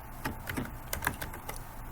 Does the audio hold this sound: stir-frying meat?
no